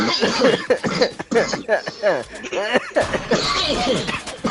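A person coughs in short, rough bursts amid lively talk and chuckling from people in a casual Fortnite gaming session.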